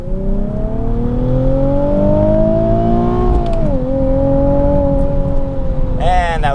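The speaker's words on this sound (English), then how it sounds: "So now getting up to some speed, we'll get to second gear." A 2016 Nissan 370Z NISMO accelerating hard in second gear, its engine note rising steadily in pitch from inside the cabin, loud and close, with a brief dip before climbing again.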